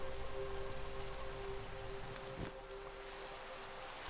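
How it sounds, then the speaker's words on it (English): Steady nighttime rain hisses evenly in a video game, a soft continuous wash that eases slightly in loudness partway through, with no talking over it. "I just don't like the rain."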